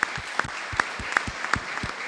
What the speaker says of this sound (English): Please, a round of applause to our presenters.